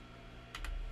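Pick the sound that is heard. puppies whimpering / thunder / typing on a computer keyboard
typing on a computer keyboard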